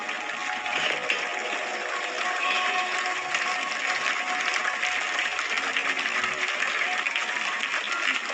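Loud, continuous applause from a large audience at a religious katha discourse, a thick even roar of clapping that keeps going without pause.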